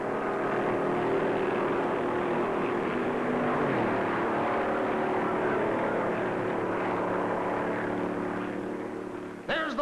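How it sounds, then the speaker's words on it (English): Vintage 1956 stock car engines roar at the Darlington Southern 500, a loud, continuous droning engine growl holding steady with shifting pitch as cars race down the straightaway, with no talk. "old 99 roars down the straightaway to begin the last lap"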